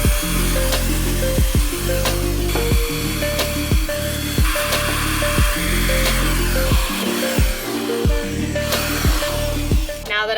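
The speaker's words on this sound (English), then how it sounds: "So let's go ahead and make the pilot holes bigger." A drill bores out pilot holes in a van body for a window cutout, running in a series of repeated whining bursts that drop in pitch as each cut bogs down, loud and close.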